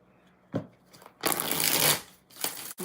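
Tarot cards riffle-shuffled up close, a few short bursts followed by one long crisp riffle and a final snap.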